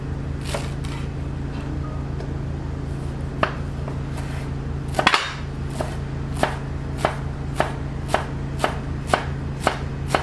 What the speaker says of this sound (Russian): Возьмем зелень, отрезаем кончики и нарезаем как можно мельче. Чеснок нарежем также мелко.